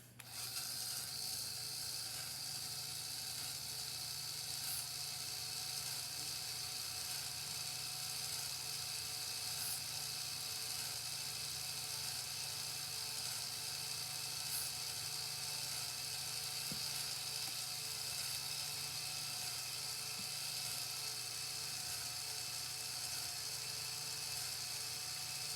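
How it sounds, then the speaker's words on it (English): A LEGO pump, number 5, driven by a small actuator runs steadily throughout, a continuous mechanical whir with faint ticking, even in loudness and close by. "Now testing pump number 5 with a small actuator."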